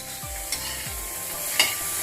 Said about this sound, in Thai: ก็จะทำการคั่วมะเขือพวงให้สุกนะคะเพื่อน ๆคั่วไฟอ่อนให้เขาสุก